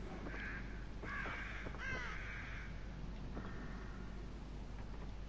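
Crows caw in the horror video game The Evil Within: several harsh, rising caws come in short bursts over a steady low ambient drone, moderately clear and not far off.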